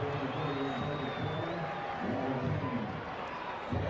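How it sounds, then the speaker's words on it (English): A big stadium crowd roars and cheers steadily at a 1993 rugby league match at Brookvale between Manly and Canberra, a dense wash of distant voices with a commentator talking over it. "Big crowd at Brookvale, loving every moment of it."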